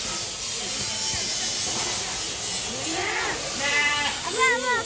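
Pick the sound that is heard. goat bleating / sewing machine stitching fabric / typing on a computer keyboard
goat bleating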